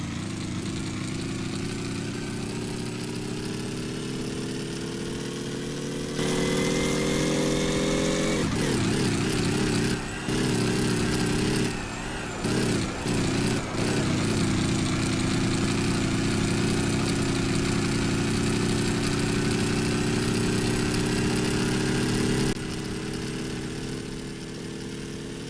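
Vehicle engine built in Gearblocks, droning steadily and rising in pitch before an abrupt high-rev gear shift. It then runs unevenly with brief stutters and cut-outs before settling into a constant hum.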